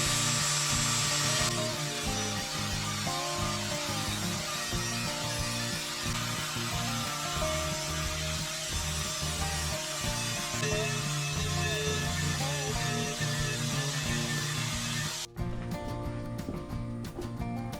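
A power tool grinds down the raised weld bead on a metal pipe, a dense, continuous rasping drone with a steady rhythmic pulse that runs loud and close for the whole stretch before shifting near the end.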